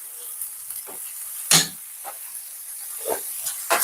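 A spoon stirs wonton soup broth in a pot: a few soft, scattered swishing and scraping strokes against a steady faint hiss, fairly quiet and close.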